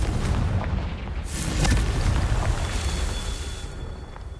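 A Confringo fire spell explosion in Hogwarts Legacy: a sustained, heavy rumbling boom with a swell near the middle, filling the whole stretch loudly with no voices.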